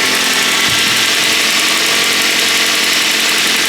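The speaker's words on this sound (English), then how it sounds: "engine sounds pretty healthy" A direct-injection car engine idles steadily up close, a continuous low rumble with a faint mechanical whir and no voices.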